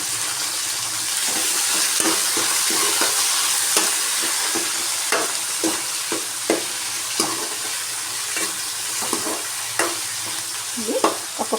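Onions and tomato fry for potato curry in a pan, a loud constant sizzle with frequent stirring scrapes and spatula taps scattered throughout, no talking.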